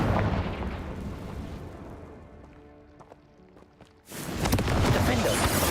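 Confringo fire spell blast in Hogwarts Legacy, a dense roaring burst that fades into sparse crackles before a second loud eruption hits, close and full.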